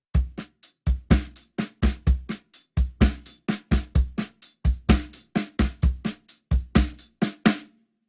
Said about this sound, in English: So the first bass drum pattern over the paradiddle is a samba bass drum pattern, which is repeated and sounds like this.